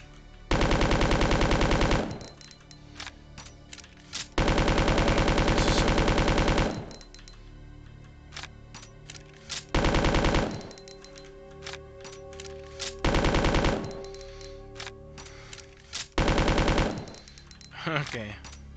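Gunfire in the Resident Evil 2 video game comes as five loud bursts of rapid automatic shots, separated by quieter gaps with small clicks and thuds.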